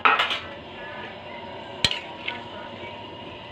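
Jackfruit with its seeds being stirred in a pot for a sweetened dessert: soft scraping with a few sharp utensil clinks against the pot, quiet and close, no talking.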